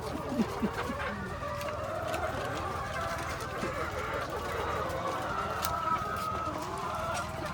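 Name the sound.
chickens clucking on a farm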